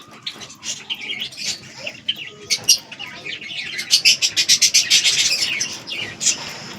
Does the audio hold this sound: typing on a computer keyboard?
no